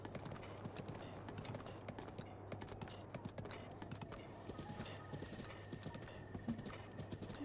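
Horse hooves clip-clop steadily in Zelda: Breath of the Wild, a continuous rhythmic trot that stays fairly quiet and even throughout with no talking.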